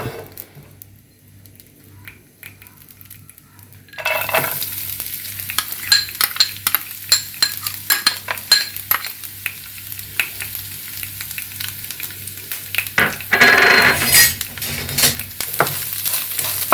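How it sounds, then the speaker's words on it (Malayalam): Finely chopped coconut pieces frying in ghee for unniyappam: after a quiet start, a loud close sizzle erupts and continues with irregular crackles and stirring, swelling again near the end, no talk. "ഇനി നമുക്ക് ഈ തേങ്ങാക്കൊത്ത് ചെറുതായിട്ട് അരിഞ്ഞതാണ്, നമുക്കിത് വറുത്ത് കോരണം."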